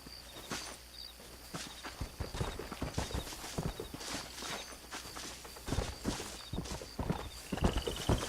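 Horse hooves in the video game Red Dead Redemption clip-clop in a quick steady rhythm on hard ground, fairly close, with faint high chimes and effects in the background.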